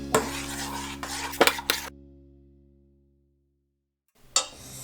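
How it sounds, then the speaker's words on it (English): A spoon stirs donut batter with milk in a mixing bowl, giving several quick scraping, knocking strokes close by. A lingering ring fades into silence, and then a final clatter follows. "And we're going to give this a stir."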